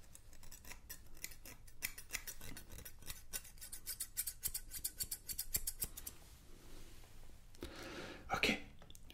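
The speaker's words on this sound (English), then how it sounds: "I'm gonna use my scissors" Quick metallic snipping from scissors cutting hair in rapid bursts, close and crisp, with a brief louder rustle near the end.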